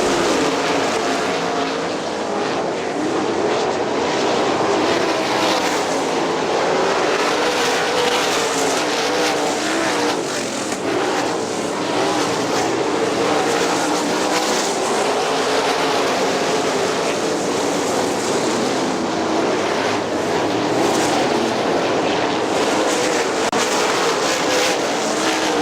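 Sprint race cars roar around Butler Motor Speedway in a steady, dense engine drone, several machines blending into one continuous loud rasp with slight surges as the pack passes, no voices heard.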